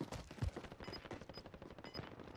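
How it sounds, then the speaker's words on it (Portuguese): Rapid gunshots in the game Call of Duty: Modern Warfare, several quick cracks that sound faint and distant, with no talking. "Opa, tiro."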